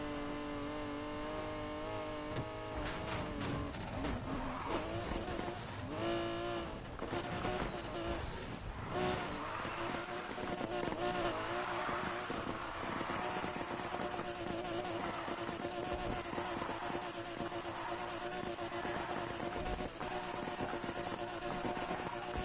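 A car driven in the racing game NFS Heat, its engine droning and revving steadily at moderate level throughout, with pitch rising and shifting as it accelerates and brief bursts of other game noise early on.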